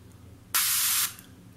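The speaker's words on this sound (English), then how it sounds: "You want to know how it sprays? It sprays like this." A cosmetic lotion spray bottle lets out a single strong half-second hiss of mist, loud and close, then stops, leaving only quiet room tone.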